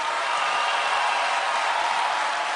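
Crowd applauding the president at the inauguration of a financial centre in Kinshasa, a steady, dense wash of clapping that holds at an even level throughout.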